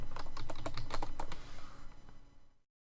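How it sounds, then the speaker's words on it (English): Quick, steady clatter of keys on a computer keyboard, close and fairly soft, running for about two and a half seconds before stopping abruptly into silence. "So let me hurry and type that."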